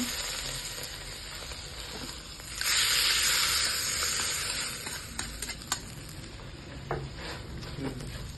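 Hot tempering of cumin, curry leaves, dried chillies and asafoetida is poured into a bamboo shoot and chickpea palya, bursting into a loud, close sizzle that fades to a softer hiss with a few light clinks.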